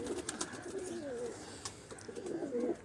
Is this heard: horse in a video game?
no